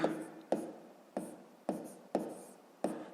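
Pen or chalk writing out a math solution, six short scratching strokes in a steady rhythm, close and fairly quiet, with no talking.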